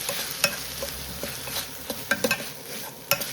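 Ginger garlic paste sautéing in oil in a pan for a Nagercoil-style soya potato kuzhambu, sizzling steadily while a spoon stirs with light scraping clicks, close and clear, no talking.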